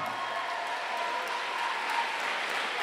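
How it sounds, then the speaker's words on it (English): Church congregation clapping during a sermon: a continuous wash of clapping hands with a few sharper claps standing out, steady and moderately loud throughout, with no one speaking over it. "Come on, clap."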